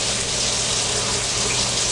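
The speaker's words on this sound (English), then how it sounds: "So I'm going to run my water to get it hot." Hot water runs from a kitchen tap in a steady, loud rush of even, unbroken hiss. No one speaks.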